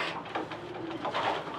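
Soft, low cooing from racing pigeons close by, a murmuring throaty burble running steadily through the whole moment.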